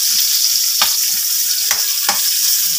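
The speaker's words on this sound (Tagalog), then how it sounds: "maglalagay na tayo ng bawang. Isunod na natin ang sibuyas. At halu-haluin." Garlic and onion sautéing in hot oil for adobo, a loud close sizzle under repeated scraping strokes of a spoon stirring the pan, several distinct stirring scrapes across a few seconds.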